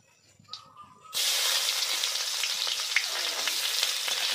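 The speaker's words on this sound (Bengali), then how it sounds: "একটু লাল করে ভেজে নেব।" Chopped onions drop into hot oil with chilli and bay leaf for a khesari dal curry, setting off a sudden loud, steady sizzle that stays dense and crackling after a quieter start.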